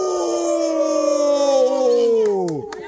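A group of men imitating a wolf howl together, one long loud sustained wail sliding downward before breaking off, followed by brief noises.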